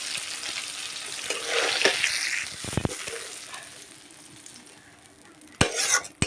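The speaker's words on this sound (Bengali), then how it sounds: "তো মাছগুলো আমি ভালো করে ভেজে নিয়েছি" Fish frying in oil with chili powder in a home kitchen for masala fish curry, steady sizzling with stirring, a few sharp metal utensil clanks, and a loud clatter near the end.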